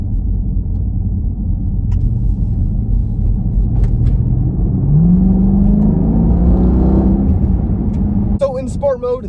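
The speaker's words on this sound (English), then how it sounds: "Now we're gonna put it in sport mode and get a little bit of an acceleration." A 2021 Jeep Grand Cherokee SRT in sport mode accelerates hard, its loud, steady engine rumble rising smoothly in pitch as the revs climb, then easing off near the end.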